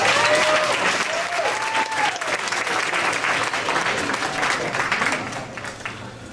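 An audience at a poetry night applauds a performer with sustained, dense clapping from many hands that fades slightly near the end, with a few faint voices and whoops mixed in.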